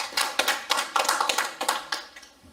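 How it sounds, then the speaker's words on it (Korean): Audience at a forum lecture clapping, a short burst of brisk overlapping hand claps close by that thins out and fades over a couple of seconds, with no talk. "김현철 전 국무부 장관님께 다시 한번 큰 박수 보내주시기 바랍니다"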